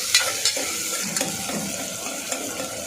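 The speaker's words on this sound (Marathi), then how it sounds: "आपला कांदा पटकन फ्राय होणार" Onion with a spoonful of salt fries in a pan for egg and whole masoor curry, giving a steady close sizzle with a few soft stirring scrapes and no voices.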